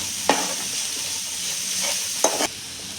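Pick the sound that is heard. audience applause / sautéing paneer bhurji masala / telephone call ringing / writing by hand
sautéing paneer bhurji masala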